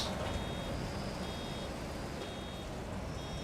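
Backing-alarm beeps from a farm vehicle in a US farming simulator game, a steady series of short, evenly spaced high tones running throughout over a constant low engine rumble inside a quiet modern cab.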